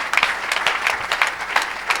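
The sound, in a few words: audience applauding for Jesus at a church gathering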